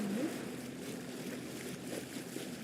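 A boat in the Roblox game Claw Fishing moves across water with a steady rushing wash and a low hum. The sound holds at an even level throughout and no one speaks.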